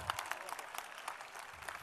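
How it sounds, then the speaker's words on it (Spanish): Audience applause at a live event: a short burst of scattered, uneven hand claps that sound near and moderately loud, with no talking. "¡Aplauso!"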